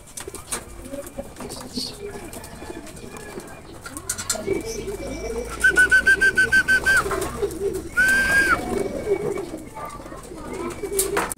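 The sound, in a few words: racing pigeons cooing on arrival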